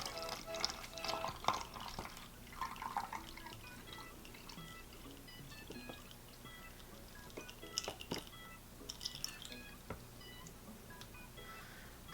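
Homemade aloe vera juice poured through a funnel into a 10-ounce spray bottle, with faint trickling and dripping plus soft clinks of handling, quiet and close.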